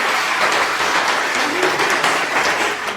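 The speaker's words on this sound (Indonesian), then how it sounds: "Tepuk tangan untuk Adik Ocen dan Thomas." Students in a classroom clap together during a microteaching lesson, a dense, loud, continuous patter of applause throughout.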